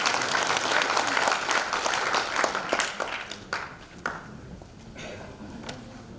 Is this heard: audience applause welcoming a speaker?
yes